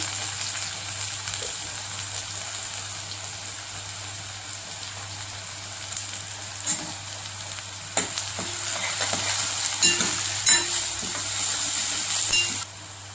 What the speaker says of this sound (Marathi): कांदा परतवून घ्यायचा।